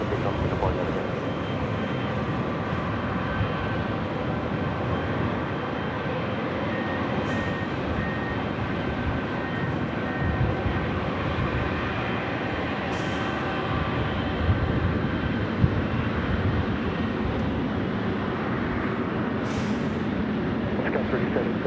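A Singapore Airlines heavy jet takes off from runway 24 left at LAX, its engine roar steady and loud throughout, with air traffic radio voices over it.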